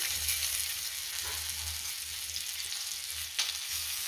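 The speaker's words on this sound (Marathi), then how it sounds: "पुन्हा मी दोन मिनटं कांदा चांगला परतून घेते" Roasted onion sautéing in a pan for a village-style mutton rassa, a soft even sizzle running throughout with a brief scrape near the end, fairly quiet and without talk.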